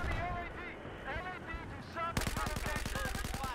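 Tank gunfire in the strategy video game China Rising: a dense burst of rapid, evenly spaced gun blasts that follows a stretch of muffled game audio and faint voices, loud and close.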